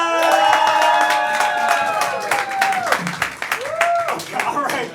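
Audience applause at a student improv comedy show: a dense wash of clapping fills the room, with voices speaking and calling out over it.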